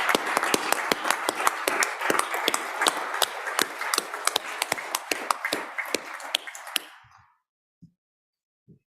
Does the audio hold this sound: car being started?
no